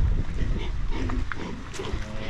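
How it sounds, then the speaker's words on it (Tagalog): Pigs kept in a pen by a caretaker near a seaside house give low grunts and snorts, mixed with wind noise and people talking nearby throughout. "Pati dun sa mga baboy nila."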